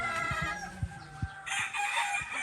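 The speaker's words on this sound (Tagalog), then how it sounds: "Mga hen to." Hens at a gamefowl farm cluck in short, close bursts while a rooster crows in the background, with several distinct clucks spread across a brief stretch.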